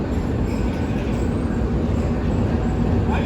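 Railway locomotive GU20 4557 on the Thar Desert Safari train idles and rumbles loudly and steadily at Karachi Cantt station, with a faint wheel squeal near the end and no talk.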